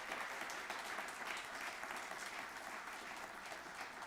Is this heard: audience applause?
yes